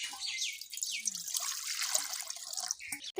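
Water poured into a kadai on the stove while making a Bengali jute-leaf curry with potatoes and fish head, a steady hissing splash running close and continuous for a few seconds, broken near the end.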